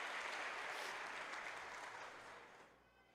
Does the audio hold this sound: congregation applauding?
yes